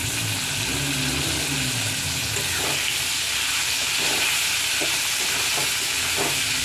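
Peas fried in a pan with boiled potatoes for a Bengali aloo dum, giving a steady close sizzle and hiss throughout, with a few faint clinks of stirring near the end.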